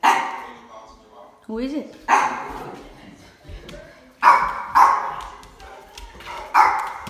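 Cane Corso dog barking in a series of loud, close woofs with short gaps, a whimper between them, and a person speaking briefly in between.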